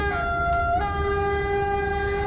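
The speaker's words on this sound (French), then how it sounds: "je vais vous montrer le klaxon" A locomotive horn in Microsoft Train Simulator sounds loud and close, one steady sustained blast whose pitch steps slightly partway through, over a low rumble of the train.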